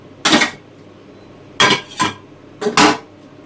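A metal pot of cooked rice handled on a gas stove, with several sharp clanks and scrapes in two or three quick groups, close and clear against a quiet kitchen background.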